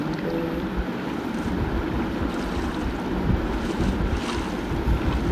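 A Minecraft boat moving across water, heard as a steady, continuous low whooshing of water and wind rush that holds at an even level throughout, with no voices.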